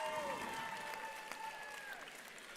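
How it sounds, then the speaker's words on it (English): Crowd applause for mentors at a district robotics event, faint and distant under a drawn-out tonal hum and whistling sweep, continuous for the whole stretch with some crowd murmur. "One more big round of applause for all the mentors."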